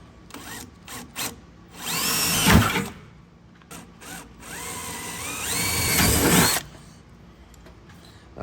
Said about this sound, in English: let's drill them